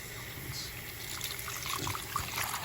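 Water trickles and pours into a chicken's bath in a sink, a soft, steady flow with small splashes that runs throughout at close range.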